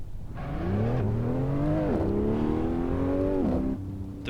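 A race car in a sim racing game accelerates hard, its engine note climbing steadily through several gear shifts, each upshift dropping the pitch before it rises again. Loud and close, with no talking.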